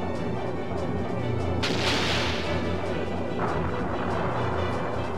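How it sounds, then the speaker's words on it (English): Pyro bomb explosion from the video game Skies of Arcadia Legends: a loud, sustained rumbling blast with a sharp burst and hissing roar partway through, over dense game effects and music. "But nothing that a pyro bomb can't take care of."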